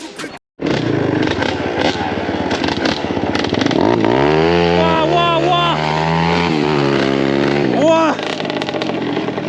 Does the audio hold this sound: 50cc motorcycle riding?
yes